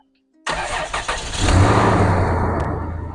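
A car engine cranks and catches after exhaust repair work, then settles into a loud, close idle with a slight rise in revs, a leaky exhaust note possible underneath.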